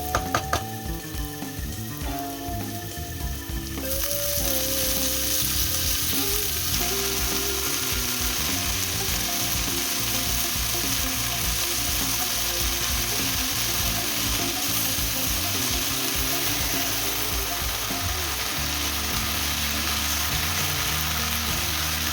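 Water spinach greens sizzle in a hot pan with onion and garlic, starting with loud, steady frying hiss, then clattering stirring and scraping as the sizzle carries on.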